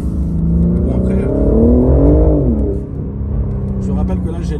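A BMW M4 Competition engine revs up and settles, a loud, rising and falling engine note heard from inside the car, with a voice talking over it.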